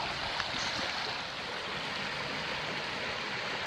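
Creek water rushing over a shallow, fast-moving riffle, a steady broadband wash that stays continuous and fairly close, with no voices.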